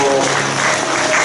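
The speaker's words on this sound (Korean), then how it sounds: "감사의 박수" A church congregation at a Wednesday worship service for retired pastors breaks into loud, dense applause throughout, with voices mixed into the clapping.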